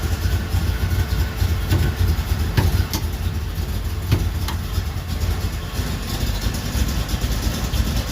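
A 1977 Chevy Camaro engine idles steadily as the car is shifted into forward gear, a continuous low rumble with a few faint clicks and knocks on top and no talking.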